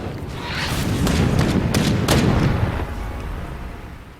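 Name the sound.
cannon fire in a video game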